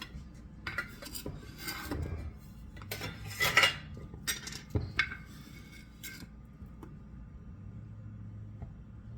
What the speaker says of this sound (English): we're going to beat all of this together